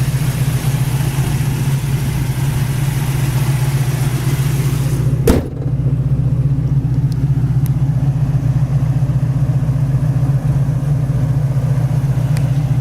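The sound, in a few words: 1969 AMC AMX engine running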